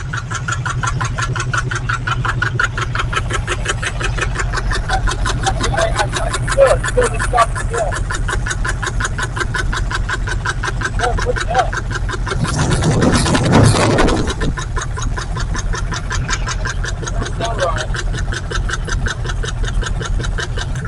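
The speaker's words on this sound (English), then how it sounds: "It doesn't sound like the usual knock. Sounds like it's the distributor to me." A 1968 Camaro engine idles close by with a fast, steady ticking knock from a faulty distributor running through it, and a brief louder rush of noise midway.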